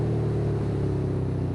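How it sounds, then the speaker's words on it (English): A Suzuki SFV650 Gladius V-twin motorcycle engine runs steadily and loud, a deep harmonic rumble with slight revving throughout, no voices. "V-twin sounds amazing."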